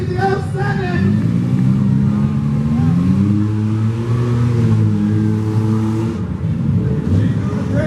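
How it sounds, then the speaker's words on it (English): Loud, continuous engine revving of demolition derby cars in an arena, including a BMW, with an announcer talking over the steady roar. "Here comes that BMW coming across the arena."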